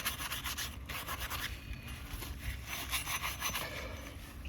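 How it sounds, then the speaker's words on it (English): A scouring pad scrubs rust off a stone chisel in quick, rough back-and-forth strokes, a gritty rasping that pulses continuously at close range. "I have this scoring pad to kind of clean up just a touch."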